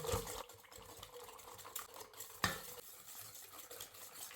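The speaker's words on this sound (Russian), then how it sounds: "Все тщательно перемешиваем венчиком до однородности." A whisk beating batter of eggs, vanilla sugar, salt and refined vegetable oil for poppy seed strudel: quiet, uneven stirring swishes with a couple of sharper taps on the bowl, close and faint, no voices.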